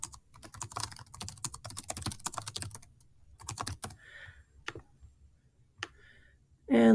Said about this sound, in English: I can add text, and I can tap and type right within that editor.